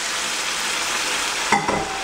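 Mongolian beef and sauce sizzling loudly and steadily in a hot wok, with a brief scrape of stirring near the end.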